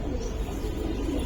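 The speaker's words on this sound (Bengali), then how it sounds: "মাদি কবুতর, খুব সুন্দর একটা মাদি কবুতর" A female pigeon coos softly and steadily for about a second, a low murmuring call close by with no talk.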